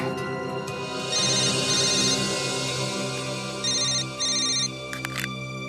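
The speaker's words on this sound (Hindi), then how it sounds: "यार जब भी सीरियस डिस्कशन होता है तेरा फोन आता है" A mobile phone ringtone plays in repeated melodic bursts, fairly faint over a steady background hum with no talking.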